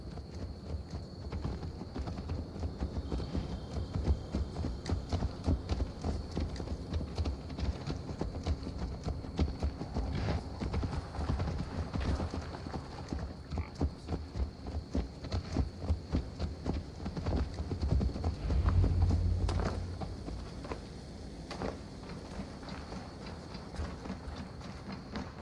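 Horse hooves clip-clop in a steady, even rhythm over a low background hum in the video game Assassin's Creed Valhalla, continuing throughout at moderate volume.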